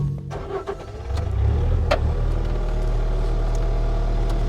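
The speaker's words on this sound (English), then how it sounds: "I'm going to fire it back up" A 2019 Bobcat S650 rubber-tired skid steer cranks briefly, then its engine catches and settles into a loud, steady idle rumble that holds close by to the end.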